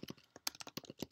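Quick, light keystrokes on a computer keyboard while HTML code is entered, a short, close burst of uneven clicks with no voice over them.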